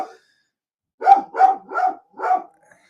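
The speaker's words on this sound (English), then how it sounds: "my God, these dogs" Several dogs bark indoors in four quick, evenly spaced woofs, loud and close, with no talk over them.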